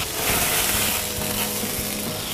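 Loud, close hissing and crackling sizzle of cognac poured into a hot frying pan, steady throughout with no voices.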